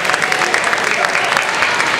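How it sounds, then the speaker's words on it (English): Audience applauding coaches who have stood up, a dense, loud wash of clapping with crowd voices blended in throughout. "Please give them a round of applause."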